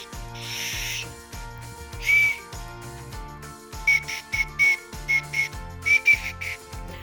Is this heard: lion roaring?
no